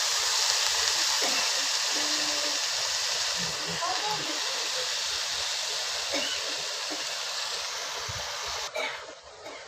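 Chopped hyacinth beans hit a hot pan in a steady sizzling hiss that runs throughout, with faint stirring clatter and a voice speaking over it.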